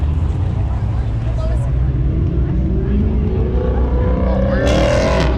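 A supercharged car revs and accelerates at a supercar meet, its engine a loud rumbling roar that rises in pitch toward the end, with people talking over it.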